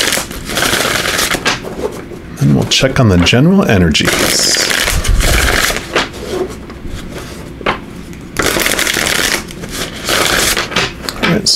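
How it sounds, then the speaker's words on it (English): A deck of tarot cards is shuffled with quick riffling and ruffling bursts, while a person talks before and after. "Just give these a good shuffle,"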